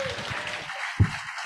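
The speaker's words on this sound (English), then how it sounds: "can we all give John a round of applause?" An audience at a substance-use conference in King County applauds for an honoree with steady, dense clapping, mid-level and continuous. Some voices come through underneath.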